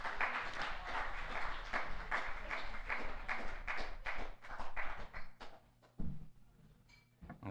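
A school morning assembly applauds a guest speaker: dense, steady clapping from a room full of students that thins out and fades toward the end, with a few scattered late claps.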